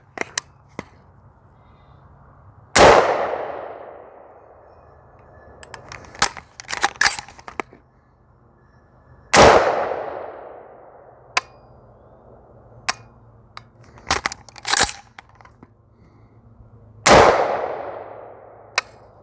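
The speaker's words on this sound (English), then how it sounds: "So we're just gonna shoot at the old targets" AR-15 rifle shots at old targets outdoors, three loud sharp reports several seconds apart with ringing decays, mixed with smaller clanks and clicks of handling between them, no talk.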